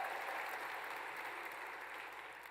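Faint, steady applause fills a large hall at a Salt Lake Community College convocation ceremony, an even wash of many hands clapping at a distance without any voices on top.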